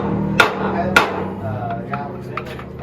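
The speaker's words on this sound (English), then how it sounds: "Just kind of tap on the yoke a little bit." Two sharp metallic hammer taps ring out on a Jeep axle yoke about half a second apart, followed by a few lighter knocks against a low background hum.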